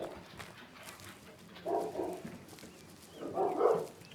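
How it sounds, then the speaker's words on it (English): Hunting dogs in theHunter on the Aurora Shores map give two bursts of barking, one near the middle and a louder one at the end, over a soft outdoor ambient bed. "now I got both my dogs going outside there"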